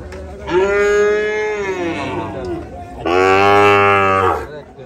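Two long, loud moos from a thin, bony cow at a livestock market, close by, the first drawn out and the second deeper and fuller, with no talk over them.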